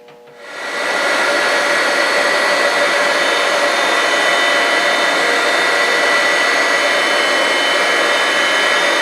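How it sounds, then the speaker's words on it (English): A grinding wheel works a step on a steel bar square, a loud, steady abrasive whine that starts after a brief quiet moment and holds at full level throughout, with no talking. "We'll redress it, and then we'll grind this last step."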